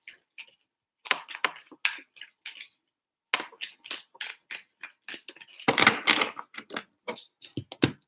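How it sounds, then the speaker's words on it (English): Tarot cards being shuffled by hand, three rounds of crisp riffling and flicking in separate bursts with short pauses, close and fairly quiet, no talking. "3 shuffles for Pisces."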